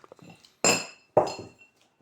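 A spoon clinks sharply against a dish twice, loud and close, with faint soft taps before it and quiet in between, while KitKat Chunky chocolate is eaten.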